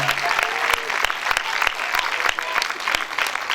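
Concert audience at the Pathé Quinconces in Le Mans applauding two performers, a steady wash of many hands clapping with sharp individual claps standing out, fairly close and continuous throughout.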